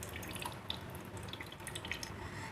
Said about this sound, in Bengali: ছাঁকনিটার মধ্যে জল দিয়ে দেব, একটু ভালো জল দিয়ে ছানাটাকে ধুয়ে নেব